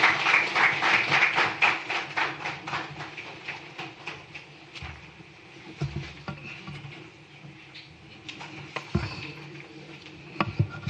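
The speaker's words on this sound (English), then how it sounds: "Shall we please acknowledge him with a round of applause?" Scattered audience applause at a live official event in Ghana, starting as brisk clapping and thinning into sparse, irregular claps with a few louder isolated hits.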